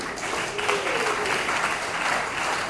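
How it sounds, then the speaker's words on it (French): A hall audience applauds the speaker's wife and children, steady full clapping from many hands throughout, fairly loud with a faint tone or voice underneath. "Je vous demande de les applaudir"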